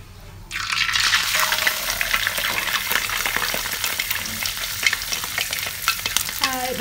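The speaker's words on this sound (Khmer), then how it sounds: "ហើយនៅពេលដែលខ្លាញ់ក្តៅហើយសិមបងប្អូនដាក់ត្រីចូល" Wallago attu fish pieces go into hot oil in a pan and burst into a loud, crackling sizzle that holds steady and close, with spattering pops throughout and no voices.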